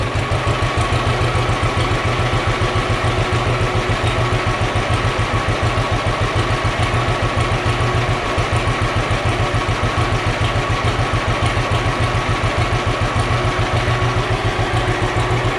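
A 1941 John Deere H tractor engine runs steadily under generator load, a loud, close, continuous low chugging beat that holds an even rhythm with no talking.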